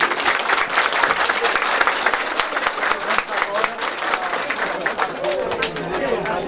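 An audience at an outdoor public ceremony for a handover of tractor keys claps steadily in sustained applause, dense and close, with crowd chatter mixed in.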